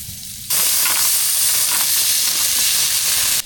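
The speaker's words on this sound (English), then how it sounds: "First, let me put some butter on the pan." Butter and meat sizzle loudly in a pan on a 100-euro Temu camping stove, a steady, close, hissing fry that starts abruptly and cuts off near the end, with no talking.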